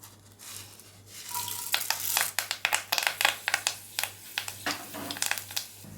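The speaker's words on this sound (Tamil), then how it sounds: "இப்போ எண்ணெய் நல்லா சூடாயிடுச்சு. தாளிப்புக்கு தேவையான கடுகு, உளுத்தம்பருப்பு, கருவேப்பிலை சேர்த்துடலாம்." Mustard seeds, urad dal and curry leaves crackle and sizzle in hot oil for a Tamil garlic chutney tempering, with a steady close fry hiss and a burst of sharp, rapid pops as the seeds begin to splutter.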